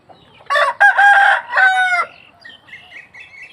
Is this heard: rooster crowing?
yes